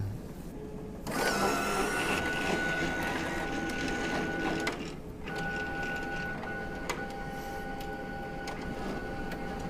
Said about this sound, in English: The printer will now pull the isopropanol card in and run it through the length of the printer